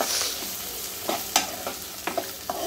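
Potatoes being tossed and stirred in a pan with tomatoes for sambar, giving a soft steady sizzle broken by several scraping stirs and clinks, with no one talking.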